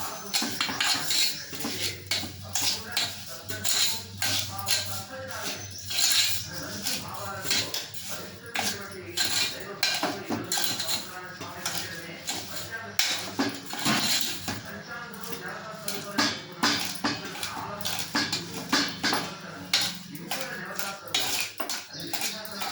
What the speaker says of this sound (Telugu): మొత్తం ఇట్లా చక్కెర కరిగేదాకా ఇట్లా కలపాలి